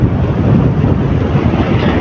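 Sea waves and strong wind on a shore, a steady loud roar with wind buffeting the microphone throughout.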